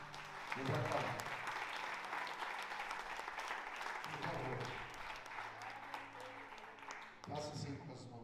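A church congregation applauds in a sustained wash of clapping, while a preacher's amplified voice keeps talking over the noise and swells in bursts throughout.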